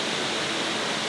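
A steady, dense wash of falling water from a waterfall at Pronojiwo in Indonesia, loud and unbroken for the whole brief moment.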